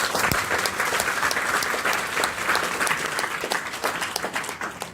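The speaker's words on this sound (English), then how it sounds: "So give yourself a round of applause." A crowd applauds steadily, dense and sustained clapping throughout, gradually fading slightly near the end.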